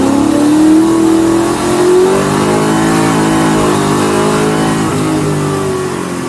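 A DCT-gearbox BMW E30 M3 track car revs hard to around 8500 rpm on a circuit, its loud, close engine note sweeping up in pitch, dipping briefly, then holding a sustained high howl with no talk.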